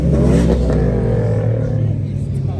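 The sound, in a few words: V6 Chrysler engine revving with new exhaust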